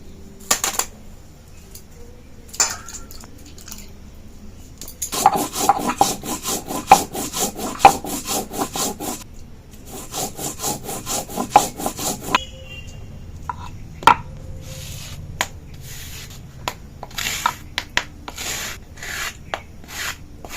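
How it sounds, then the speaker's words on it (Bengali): Whole cumin seeds ground by hand on a grinding stone for a Bengali egg bora curry: loud, rhythmic rasping strokes of stone on stone, with a steady burst in the middle and scattered single scrapes around it. "গোটা জিরাটা বেটে নিব।"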